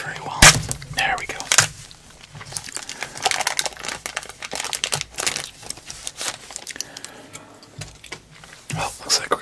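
A 1991-92 NBA Hoops basketball card pack wrapper is torn and crinkled open in sharp, irregular bursts of crackling plastic, close and loud, with soft speech between the rustles.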